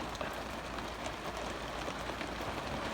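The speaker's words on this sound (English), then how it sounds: "Yeah, that thunder broke loose some rain." Rain falling outdoors after thunder, a steady faint hiss with soft scattered drops pattering on surfaces, continuous and even, with no talk over it.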